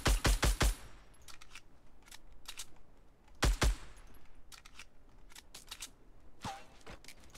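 Gunfire in Fortnite aimed at a tree: a rapid four-shot burst opens, followed by scattered single shots and a second close burst, loud and sharp over a quiet game background.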